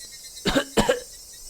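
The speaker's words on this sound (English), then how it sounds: "That wasn't a normal coughing sound." Two harsh coughs in quick succession, close and fairly loud, with no talking around them.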